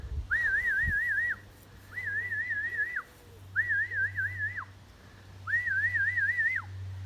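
A falconer whistles four times in a repeated warbling recall call to bring a bald eagle back, each whistle clear and fairly close over a low steady wind rumble outdoors.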